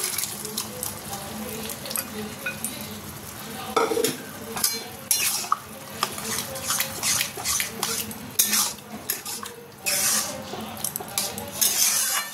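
Green peas tipped into a thick spiced curry masala for ghugni, stirred in a pan with intermittent metal scrapes, clinks and soft sizzling, close and moderately quiet.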